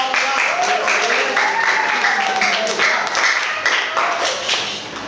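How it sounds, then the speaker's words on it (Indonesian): Students in a classroom clap together in a loose, fairly loud burst, with a voice speaking over the clapping as it gradually tails off. "silakan dulu kasih tepuk tangan dong"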